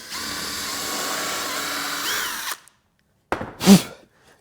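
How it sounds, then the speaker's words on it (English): Power drill boring a hole through wood for a beginner's coffee mug stand: a steady close whine for over two seconds, then silence and a short second burst, with no talk. "So let's get this hole drilled in here."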